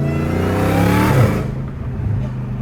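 Supercharged Dodge Hellcat Redeye with its exhaust valves closed, revving up to a loud, rising engine roar with supercharger whine, then dropping back to a rumbling idle, heard up close.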